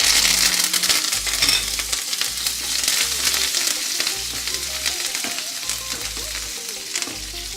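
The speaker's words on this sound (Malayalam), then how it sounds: "പ്ലസ് കുറച്ചധികം കറിവേപ്പിലയെ" Curry leaves hit hot coconut oil in an Onam sadya tempering, giving a loud, dense, continuous sizzle and crackle close up that eases slightly toward the end.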